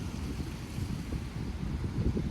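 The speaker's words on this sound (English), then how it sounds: "And it's really very windy and soothing." Wind gusting against the microphone outdoors at a condominium in Puchong, Selangor, a continuous low rumble and roar with no voices.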